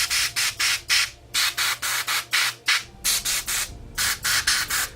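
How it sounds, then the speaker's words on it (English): Short repeated bursts of aerosol spray paint hiss close by onto a model base, in quick groups of three or four with brief pauses between. "I will spray this color on top of the brown we did just before"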